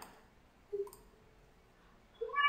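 A few quiet computer mouse right-clicks, soft isolated ticks spaced apart against a low hiss, with no talking.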